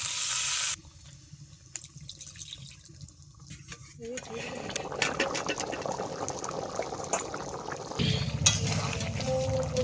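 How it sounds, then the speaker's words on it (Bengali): Hot water poured into a pot of browned meat curry, a sudden rushing splash and sizzle that swells into a steady bubbling hiss, close by in a home kitchen. "কষানো হয়ে গেছে, জল দিয়ে দিচ্ছি। জলটা গরম ছিল, দিয়ে দিচ্ছি।"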